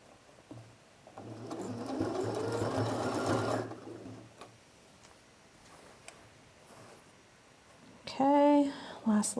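A sewing machine stitching fabric, running in a steady rapid mechanical whir for a couple of seconds at close range, followed by quieter handling sounds and a brief voice near the end.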